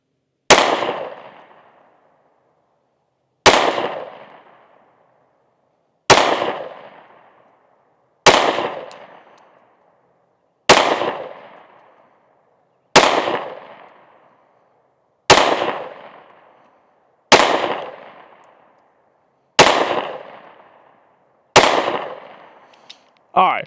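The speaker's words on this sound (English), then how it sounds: "So 10 rounds from 15 yards, same dot." Ten shots from a Shield Plus pistol in 9mm fired at a target plate from 15 yards, each a loud sharp crack with a ringing decay, evenly spaced about two seconds apart.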